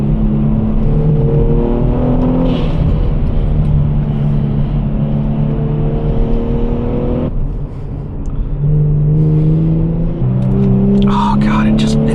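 A Kia Stinger accelerates on a late-winter mountain road, its engine droning and rising in pitch through gear changes, heard from inside the car, with a brief drop in engine note partway through.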